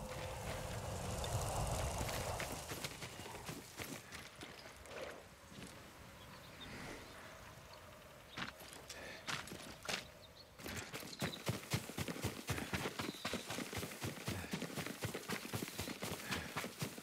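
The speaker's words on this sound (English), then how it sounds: "Yuriko's horse. She can't be far." Horse hooves clip-clop in Ghost of Tsushima, first faint and scattered, then a fast, steady run of close, sharp hoofbeats over ambient wind.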